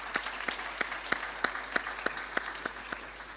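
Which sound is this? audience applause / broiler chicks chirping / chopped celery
audience applause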